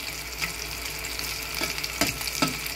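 Zucchini rings frying in hot oil in a home kitchen, giving a steady close crackling sizzle with a few sharper pops and spatters toward the end.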